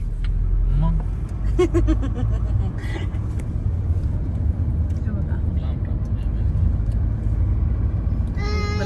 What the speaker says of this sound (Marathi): आज पहिल्यांदा आम्हाला अशी ट्रॅफिक जाम दिसलेली आहे